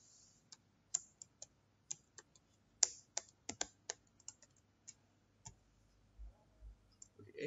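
Code is typed on a computer keyboard in quiet, irregular bursts of crisp key taps and clicks, fairly close, with a couple of soft low thumps near the end and no talking.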